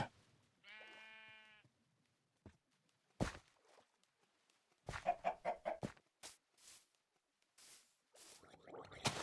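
A Minecraft chicken clucks and squawks in short bursts with synthetic-sounding tone, separated by quiet gaps and a few sharp clicks.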